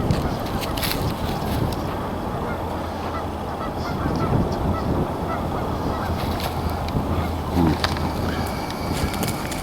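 A large flock of several hundred geese honks continuously in the open, dense overlapping calls at moderate distance with wind noise across the microphone.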